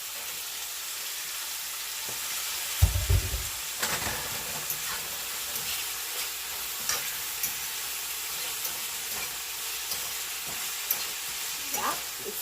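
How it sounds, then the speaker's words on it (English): Saltfish sizzling and frying in a pot with tomato, onion, garlic and scallion, a steady close hiss with occasional clinks of a spoon stirring, no voices. "Here I put my saltfish in the pot with the tomato, onion, garlic,"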